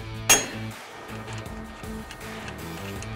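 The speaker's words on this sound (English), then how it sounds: "we're going to take a hammer and we're going to hit the knuckle and have it drop" A single sharp metallic clang from a hammer striking a Jeep Wrangler JK steering knuckle rings out once, then a low rhythmic hum of background music continues.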